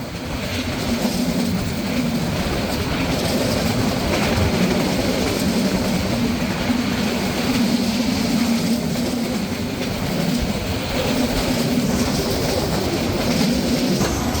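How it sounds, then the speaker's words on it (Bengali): A meter gauge train, the Burimari Express, rolling along the track as a steady, loud, continuous rumble with faint rhythmic clatter, no voices. "মিটার গেজ ট্রেনের ট্র্যাকের সাউন্ড যা এক কথায় অসাধারণ লাগছিল"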